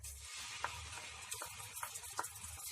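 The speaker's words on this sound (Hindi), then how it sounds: "पैन में 2 टेबलस्पून तेल गरम कर लें। तेल गरम हो चुका है। हम इसमें एक मीडियम साइज की पिसी हुई प्याज डाल देते हैं।" Ground onion paste, a medium onion's worth, frying in two tablespoons of hot oil in a pan: a steady close sizzle with a few soft stirring scrapes and no talk.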